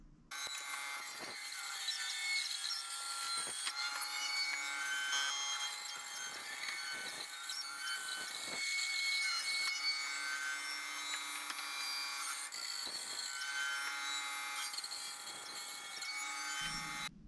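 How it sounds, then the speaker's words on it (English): A bandsaw cuts curved pieces of wood for a turned bowl with resin. The blade hum and cutting noise run steadily through the whole stretch, fairly loud and close, with a few short breaks where the cut pauses. "So I'm gonna go to the bandsaw and try my best to cut these curves out."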